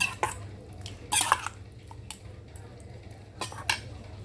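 Tuna salad with a sour sauce being tossed and mixed in a bowl, with soft scattered clinks and scrapes of a utensil, a few sharper clatters and a low steady hum underneath.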